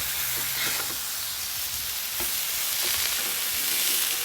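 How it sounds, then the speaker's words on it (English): Filet steaks searing on a hot griddle, a steady broad sizzle and hiss with a few soft scrapes and taps as the meat is turned, close and continuous with no talking. "Let's go and try to flip our fillets."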